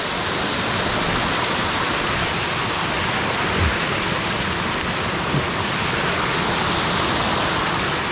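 Abundant water rushing across a hidden rural property after night rain, a steady dense roar like surf or a waterfall that fills the whole stretch evenly and close by, with no talk over it.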